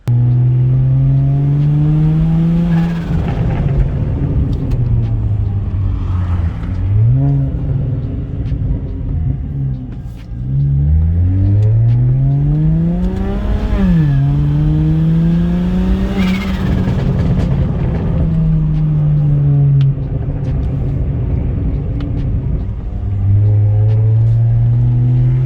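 A BMW 335i with a single ball-bearing turbo pulls hard through repeated accelerations, its engine note climbing and dropping at each gear change, loud and close, with a continuous road rumble beneath.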